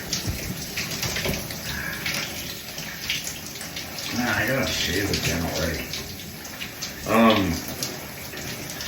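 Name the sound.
shower water running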